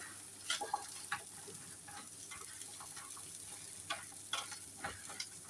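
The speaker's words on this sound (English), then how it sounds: "Well, that's frying away" Spicy chickpea hash with flour fries in a pan, a faint steady sizzle close by with occasional stirring scrapes and ticks, no talking.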